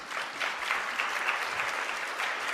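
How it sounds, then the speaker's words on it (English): A round of applause from the audience at a panel discussion, steady even clapping from a moderate crowd at a slight distance, sustained without talk. "I want to give another round of applause because that was just wonderful"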